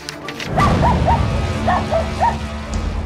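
Several dogs in a crowded dog shelter compound yap in a quick run of high, short barks over a low rumbling background, with no one talking.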